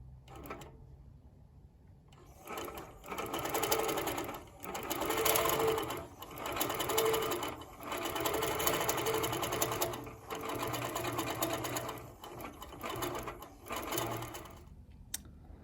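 A Handi Quilter Moxie longarm quilting machine with Pro-Stitcher Lite runs a quilting row, giving a loud, steady mechanical stitching whir that swells and dips in regular waves for several seconds after a quiet start.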